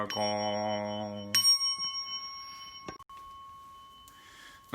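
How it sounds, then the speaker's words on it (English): A temple gong rings out at a Buddhist memorial service, its single strike leaving a bright sustained shimmer that decays slowly, followed by a second softer resonant ring. "Gong."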